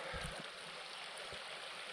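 Steady broadband rush of a river flowing in Lerderderg State Forest, heard up close and continuous, with a few low thumps of water movement and no talking.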